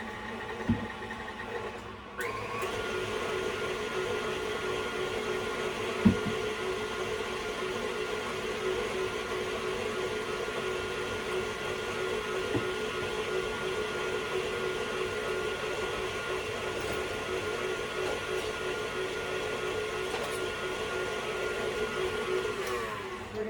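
An electric mixer whirs steadily and evenly through carrot cake batter as milk is added, a loud continuous drone after a short start-up, with one or two small knocks against the bowl.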